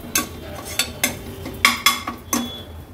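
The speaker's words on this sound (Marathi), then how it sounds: "वाटण पण तेलावर छान असं आपल्याला परतून घ्यायचे।" A spoon scraping and knocking in a pan as dry coconut masala paste is sautéed in oil: about eight distinct metallic clinks and scrapes at an uneven rhythm, close by, with no talking.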